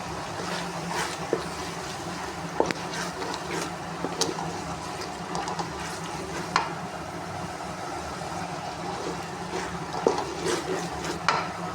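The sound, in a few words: black-eyed peas (lobia) frying and being stirred in masala gravy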